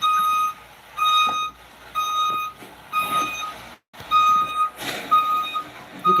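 A truck backing up sounds a steady series of loud, high reversing beeps, roughly one per second, over a background of road and engine noise, with a brief silent gap partway through.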